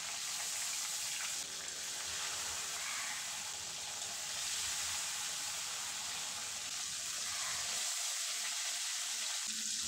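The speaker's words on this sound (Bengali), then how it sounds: "তেল ভালো করে গরম করে এবারে একে একে মাছগুলো দিয়ে দেব।" Bata fish frying in hot mustard oil in a kadai, giving a continuous loud hiss and crackle that runs nearly unbroken, briefly thinning toward the end.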